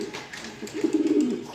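A pair of grizzle racer pigeons cooing nearby, a short burst of low throaty coos rising after a quieter start, with no talk.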